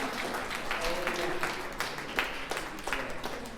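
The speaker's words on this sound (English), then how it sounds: "Come and give a round of applause to the name of Sunshine." A church congregation at City Harvest AG in Bangalore applauds during a child's dedication service, a steady, moderately distant wash of many hands clapping with a few sharper claps standing out.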